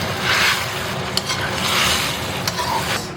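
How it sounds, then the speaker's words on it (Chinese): Big-head prawns go into a pan of boiling sauce for sand ginger braised prawns, giving a close, continuous sizzling bubble with a couple of sharp clicks from the pan. "再把大头虾放进来"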